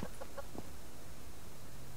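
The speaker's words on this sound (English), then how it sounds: "Alright, lots of chickens." Chickens in the survival game Subsistence give a few short, soft clucks near the start over a steady outdoor ambience, then fall quiet.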